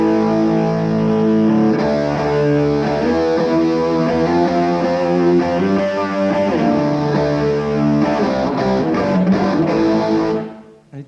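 A loud electric guitar rings out sustained power-fifth chords, full and driven with a distorted edge, shifting through several changes before fading at the end; no voices.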